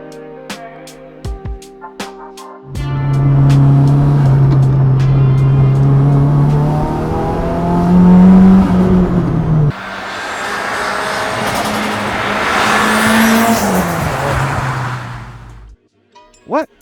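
A track-focused Nissan S15 Spec R sports car driven and accelerating, with a steady loud engine drone that climbs in pitch through the gears, a brief lift between shifts, and an onboard, close perspective.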